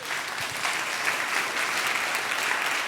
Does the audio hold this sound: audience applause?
yes